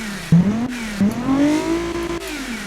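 Video game race car engine rated at 839 horsepower revving hard through a few quick gear shifts, a loud close rising engine tone that climbs, drops briefly and climbs again.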